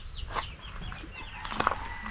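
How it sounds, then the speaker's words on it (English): Chickens cluck and squawk close by at an exotic bird park in Puyo, Ecuador, with several overlapping short calls over a brief stretch and no talking. "A lot of chickens."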